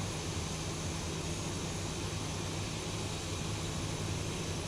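A steady, even roar from a jet airliner in X-Plane as it taxis to the gate, holding constant for a few seconds with a low rumble under a broad hiss and no talking.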